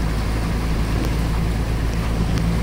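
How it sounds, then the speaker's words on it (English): A pickup truck's tailpipe submerged while driving through floodwater on a rural West Virginia road after heavy rain, giving a steady, loud low rumble and churning gurgle that continues without break. "I can hear my tailpipe underwater."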